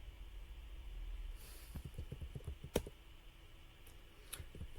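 Short burst of key clicks as a debugger command is typed on a computer keyboard, faint and close, a quick run of light taps followed by a sharper click.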